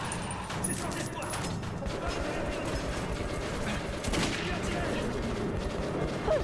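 Gunfire in the video game Metro 2033 Redux, dense rapid bursts of shots with mechanical clatter running nearly continuously, loud and close, with a voice talking over it.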